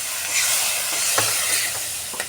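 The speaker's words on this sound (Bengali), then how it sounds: "এবার আমি মিক্সি ধোয়া জলটা আমি দিয়ে দেবো।" Rinse water from a mixer jar is poured into masala frying in oil for a prawn and pointed gourd dish, raising a loud hissing sizzle with soft stirring bumps close by.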